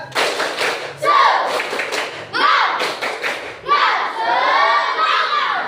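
Classroom students perform a rhythmic spirit clap chant, bursts of group clapping and shouted syllables in three or four rising waves, loud and close, with young voices chanting together.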